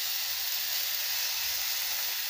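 Chicken pieces go into a hot pan of sautéed ginger-garlic paste and set off a steady, close hissing sizzle that holds evenly throughout, with no talking.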